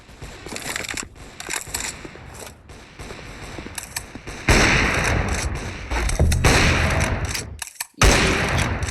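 Gunfire in the BLOCKFIELD 5v5 shooter game, with bursts of shots and mechanical clicks, growing louder and denser in the second half with a brief gap before a final burst.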